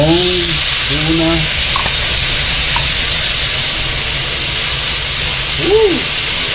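Tuna sizzles in butter in a pan for tuna sisig, a steady loud frying hiss throughout, with short tonal squeaks and a voice heard briefly over it.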